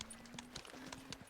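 Horse hooves clip-clop at a steady walking rhythm in the video game Pentiment, a run of quiet, close, evenly spaced knocks over a faint low tone.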